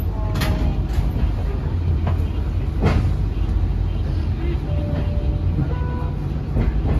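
Steady rumble and rolling hum inside a Joglosemarkerto economy new generation passenger train, with occasional clicks and a faint chime, while people talk over it.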